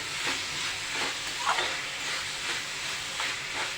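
Cabbage salad being stirred with sugar and a squeeze of lemon in a bowl, a steady moist scraping and swishing with soft repeated strokes, close and fairly quiet, with no talking.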